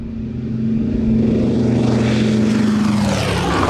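A twin-engine Douglas DC-3 climbs after takeoff, its propeller engines giving a loud, steady throbbing drone with a strong sustained hum from inside the aircraft.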